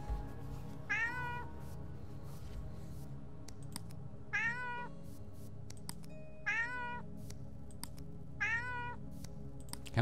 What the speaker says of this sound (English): We can meow at him.